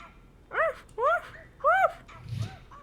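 A dog in a video game lets out three sharp, close barks in quick succession, followed by a fainter low yelp.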